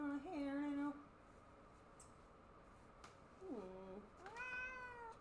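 A cat meows twice, a clear drawn-out meow near the start and two more rising meows toward the end, close and fairly loud against a quiet indoor background.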